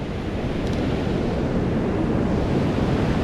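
Surf washes onto the beach at Tunstall on the Holderness coast of Yorkshire, a steady close roar of breaking waves mixed with wind buffeting the microphone, with no voices.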